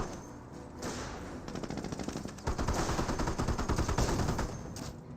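A Greyhound armored car fires in the Company of Heroes video game. Loud, rapid bursts of automatic gunfire rattle almost continuously, with a heavier stretch in the second half.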